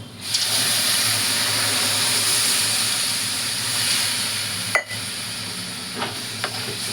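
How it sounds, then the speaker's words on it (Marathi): Water hitting a hot pan while making pithla, a steady loud hiss and sizzle filling the clip, with a brief clink and a few small taps near the end. "आता बघा, पाणी टाकते."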